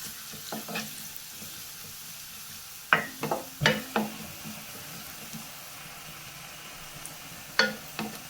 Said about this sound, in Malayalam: ഒരു ഉണക്കമുളക് മുറിച്ചിട്ട് കൊടുക്കാം ഇത് നമുക്കൊന്ന് വാട്ടിയെടുക്കാം